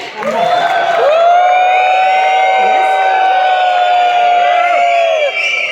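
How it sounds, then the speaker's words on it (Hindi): A seated crowd at a motivational talk cheers with their mouths in place of clapping, a loud sustained chorus of whooping voices that rises and holds steady for several seconds. "आप मुंह से ताली बजा सकते हैं।"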